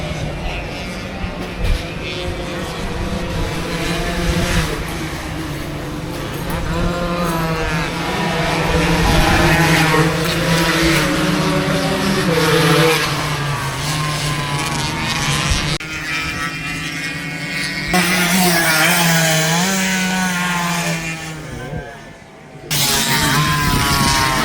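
Motorcycles race along a track, a continuous loud engine drone with rising and falling whines as bikes pass, sustained for over twenty seconds, with a brief dip near the end and faint background voices.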